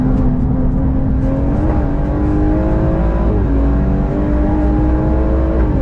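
A yellow BMW M140 is driven around a track, its engine note droning steadily and loudly from close by throughout, with pitch rising in stages as it accelerates through the gears.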